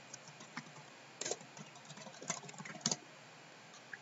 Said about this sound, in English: Let me type in birthday party.